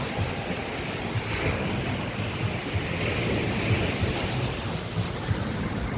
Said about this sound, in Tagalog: lakas pa naman ng agos